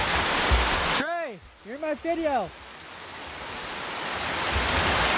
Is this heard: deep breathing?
no